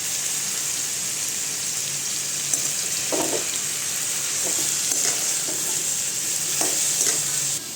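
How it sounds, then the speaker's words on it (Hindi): Bottle gourd curry fries with a constant soft sizzle in a pan, while a spoon stirs and scrapes at intervals, producing several short clatters close by. "तो ये मेरी लौकी की सब्ज़ी बन रही है।"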